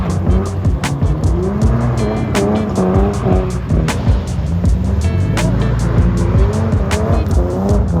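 A Ford AU Falcon drifts on gravel roads, its engine revving hard and rising and falling under loud tyre scrabble and sliding noise. The sound is continuous, close and aggressive, with sharp transient knocks throughout and a voice faintly beneath.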